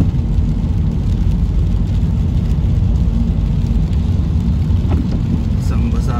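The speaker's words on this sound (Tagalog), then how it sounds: "Tingin ko maghapon ang ulan pa." Rain falls steadily on a wet road in Doha, a continuous dense hiss with a low rumble underneath that holds at the same level throughout, with no voices.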